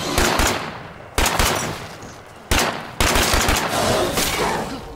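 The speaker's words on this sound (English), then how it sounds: "There's you can hear a lot of gunfire there." Loud, close bursts of automatic gunfire in a video game, dense rattling volleys that cut off and restart several times in quick succession with no one talking.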